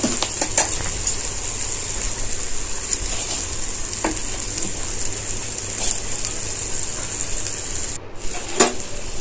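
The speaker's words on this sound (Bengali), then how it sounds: "ভিজা চালটা আমি এখন একদম গরম গরম জলে ছেড়ে দেব" Soaked basmati rice is tipped into a pot of boiling water, giving a steady bubbling, sizzling rush that goes on throughout, with a few brief clinks and one short splash near the end.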